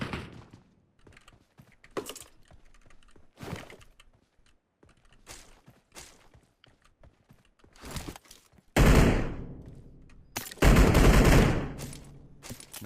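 Gunfire in the battle royale game PUBG: scattered single shots and short bursts at first, then two loud sustained volleys of rapid fire near the end, with small clicks and thuds between them.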